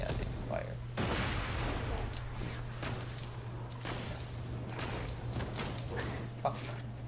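Gunfire from the video game Borderlands 2, a dense run of loud synthetic shots and booms across the whole stretch, with a steady low hum underneath and a player talking over it.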